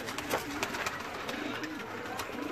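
Pigeons on a rooftop loft in Kamoke coo softly and repeatedly, a low throaty cooing under steady background noise, with no speech.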